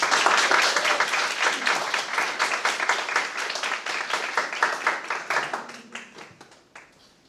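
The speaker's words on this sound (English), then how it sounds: "Let us welcome him with a round of applause." An audience applauds at a gala to welcome speaker Paolo Paculan, a dense burst of clapping that stays loud for several seconds, then thins out and fades near the end.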